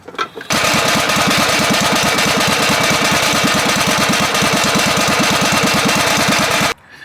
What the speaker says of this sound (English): You're going to want to do it while the engine is running.